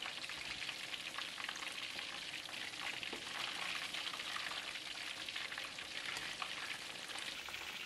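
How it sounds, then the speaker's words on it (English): Battered fish deep frying in hot oil gives a soft, steady crackling sizzle that runs evenly throughout with tiny popping bubbles, fairly quiet and with no talk. "Fry them for 5 more minutes for even cooking or until fully golden brown."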